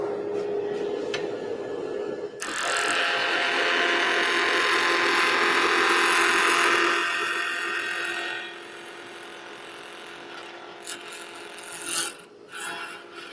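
A wood lathe cuts small chips from a pen blank, a steady raspy scraping that runs loud for several seconds, then drops back to a quieter hum with a few faint knocks.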